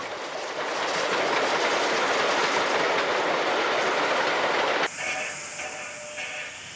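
A New South Wales steam train, engine 2016 leading and 2029 at the rear, rolls past in a loud, steady roar of hissing and rumbling wheels that shifts abruptly into a rhythmic clickety-clack near the end.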